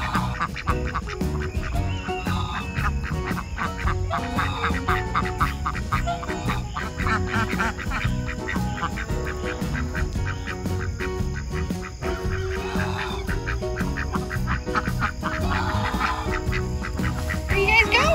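Ducks quack in a busy, dense chorus near a farm ditch, with overlapping calls running steadily throughout.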